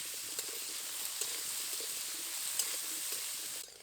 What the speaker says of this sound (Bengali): কেটে রাখা থোড়গুলো দিয়ে এবার ভেজে নেব।